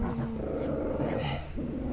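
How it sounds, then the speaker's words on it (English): Dogs growling in a close scuffle, a continuous low snarl with brief rough bursts and no clear barks, heard up close. "Before I get in the middle of a dog fight and get my hand bit again."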